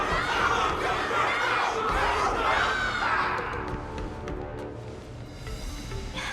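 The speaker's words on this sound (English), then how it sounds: "Everyone's cheering for you, Luca!" A crowd cheers and shouts in the video game Honkai: Star Rail, a dense roar of voices that swells early and then thins and fades toward the end.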